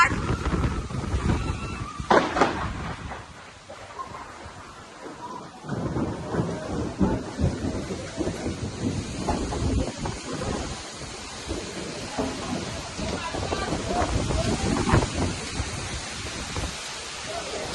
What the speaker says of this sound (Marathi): एवढा बेकार पाऊस पडते ना